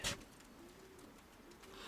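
Soft, low cooing of pigeons in a quiet space, faint and brief, with a short rustle at the start.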